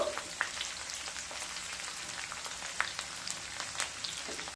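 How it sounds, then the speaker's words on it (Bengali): Garlic, ginger and green chillies fry in hot oil for an egg curry, a steady soft sizzle with scattered small pops and crackles, fairly quiet and close. "এবার দিয়ে দেব 8-10 কোয়া রসুন, 1 ইঞ্চ মতো আদা আর দুটো কাঁচা লঙ্কা দিয়ে আবারও 1 মিনিট ভেজে নেব"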